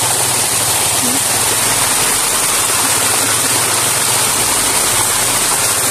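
Loud, continuous rushing water flows without a break, a dense steady roar like a stream or small waterfall heard close by.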